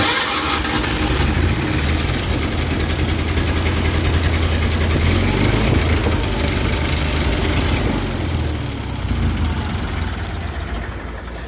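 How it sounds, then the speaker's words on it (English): Engine-driven welder cold starting and running, a loud continuous rumbling idle close by that holds steady for several seconds, no talk. "I'm gonna give you a welder cold start right here."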